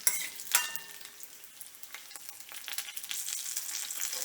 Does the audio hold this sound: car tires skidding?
no